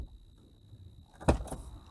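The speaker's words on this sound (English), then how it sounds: "one of the best sounding doors I've ever heard." Door of a lifted 2020 Ford F-250 Tremor heavy-duty pickup shutting with a single solid, deep thud after a quiet moment, close and fairly loud.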